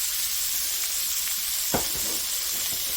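Beef tips sizzle loudly in a pan, a dense continuous hiss and crackle close up, with one brief knock partway through.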